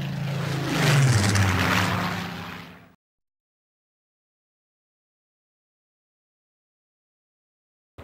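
A Spitfire aircraft's piston engine roars past, loud and close, its pitch dropping as it goes by before cutting abruptly to silence after about three seconds.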